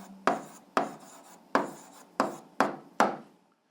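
Six crisp strokes of writing down an algebra answer, each a sharp scrape that fades quickly, falling in a steady, evenly spaced rhythm at close range with no talk.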